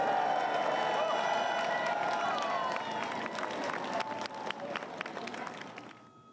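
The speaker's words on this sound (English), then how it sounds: "lined with people, throwing flowers, cheering, taking photos." Crowds lining the London streets along the route of Queen Elizabeth's funeral procession cheer and clap, a dense, roaring wash of voices with scattered claps that slowly fades toward the end.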